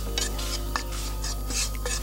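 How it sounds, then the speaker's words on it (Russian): Two tablespoons of flour toasting in a dry frying pan as it is stirred, giving soft repeated scraping rasps every half second or so over a steady low hum, close and alone. "На сухой сковороде обжариваем 2 столовые ложки муки до золотистого цвета и"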